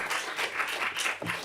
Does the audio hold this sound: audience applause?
yes